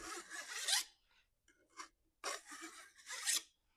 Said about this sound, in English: A couple little burrs we'll clean off. That's that Oregon tool.